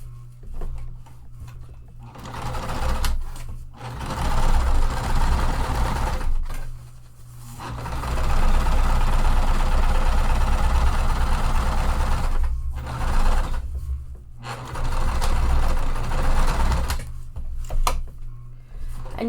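A sewing machine runs in bursts, stitching a single line down the center of a pool tote, with brief pauses to stop and backstitch between longer steady runs.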